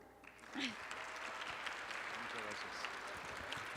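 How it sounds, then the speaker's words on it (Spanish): Audience in a legislative hall applauding at a book presentation, a steady, fairly soft wash of clapping with a voice briefly heard over it near the start. "Pues le damos un aplauso."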